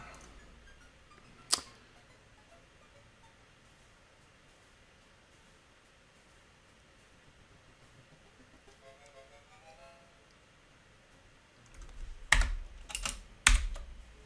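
Keystrokes on a computer keyboard while working through a Commander X16 programming tutorial, mostly faint with one sharp tap early on, then a loud cluster of quick clicks near the end, with no talking.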